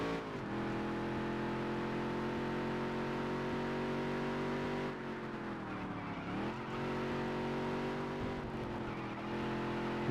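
Modified race car engine in the Dirt to Daytona video game drones at steady high revs, then briefly dips and climbs twice as it shifts down before holding a sustained buzzing tone again.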